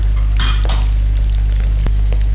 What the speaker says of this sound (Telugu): సో ఇదే పన్నీర్ ఫ్రై అవుతుంది.